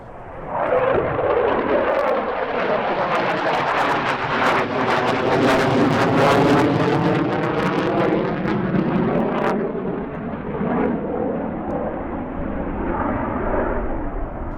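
A MiG-23 jet roars past at the EAA AirVenture Oshkosh 2023 airshow, its canopy jettisoned mid-flight, the loud engine rising and sweeping through the pass before fading into a long rumbling tail.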